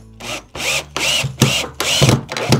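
Power drill boring holes through a template to mount water cups in a cow stall, in several loud bursts of whining motor separated by short pauses, with no talking.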